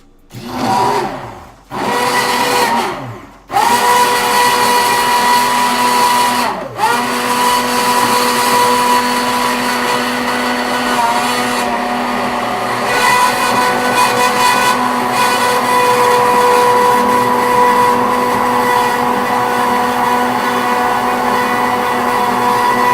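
Pasta salad ingredients being ground in a loud electric machine, a few short whirring bursts that then settle into a long, steady, high-pitched motor roar.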